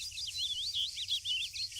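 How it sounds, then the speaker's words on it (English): Birds in the Arma video game chirp loudly in a town at daytime, a quick run of repeated high twittering calls in a steady rhythm over a low hum, with no one speaking. "The birds are very loud this time of day."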